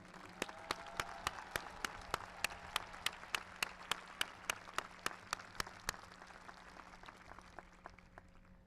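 Audience applause at Columbia University's 2002 commencement for the honorary members of the class of 2002, heard as a steady wash of clapping from a large outdoor crowd, with regular sharp clicks running through it and fading toward the end.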